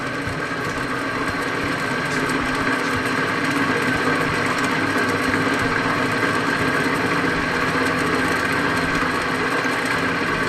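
A Bedini motor runs steadily, giving a continuous mechanical whir with a fine, even buzz and faint ticking that holds at the same level throughout, with no talk over it.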